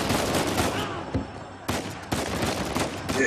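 Enemy gunfire in the video game Uncharted 4, Chapter 5, bursts of shots coming around a corner, loud rattling volleys broken by short gaps.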